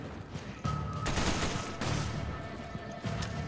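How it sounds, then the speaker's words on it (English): Gunfire in the Resident Evil 5 video game: several quick bursts of shots come in close clusters, fairly quiet and somewhat distant, with no talking over them. "I was shooting at him."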